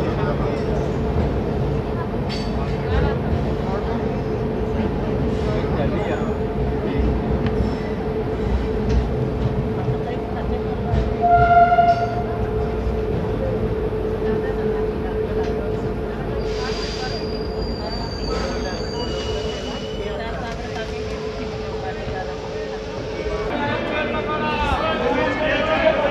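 The Mumbai–New Delhi Duronto Express pulls into Kota railway station with a steady low rumble of rolling wheels, brief high squeals from the rails and a few tonal signals toward the end, while background voices murmur on the platform.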